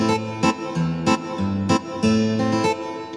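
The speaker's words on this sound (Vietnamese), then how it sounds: "Tiếp theo tại sử dụng đó là tiếng guitar điện để mình trải cái mẫu đệm các bạn." Electric guitar voice on a keyboard strums a rhythmic accompaniment pattern for a Vietnamese song, with sharp chordal accents recurring about every half second over sustained tones, steady and fairly loud, with no talk.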